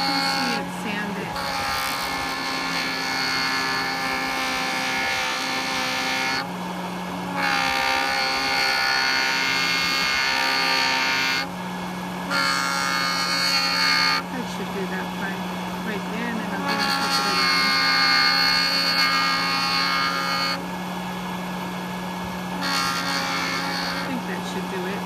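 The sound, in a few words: JOOLTOOL polishing ice resin with 15 micron finishing abrasive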